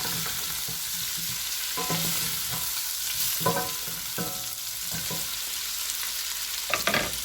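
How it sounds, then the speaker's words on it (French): Spinach chicken drumsticks sizzle gently in a pan over low heat while a utensil stirs them, making repeated scraping strokes over a soft, continuous frying hiss. "toujours avec un feu baissé, je vais mélanger le tout correctement"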